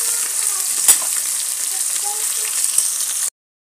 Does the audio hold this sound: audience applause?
no